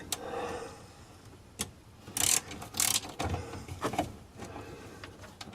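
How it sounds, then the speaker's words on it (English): A ratchet fitted with a deep socket tightens a bolt, giving short bursts of mechanical clicking and rubbing at moderate loudness with brief pauses between strokes. "Alright, so let's get this tightened up. I should use a deep socket for this."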